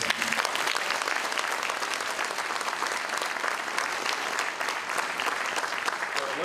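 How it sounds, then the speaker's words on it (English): Dense, steady applause from a sizable audience at a city's State of the City address, loud and continuous throughout with no talking. "So a round of applause for our community there."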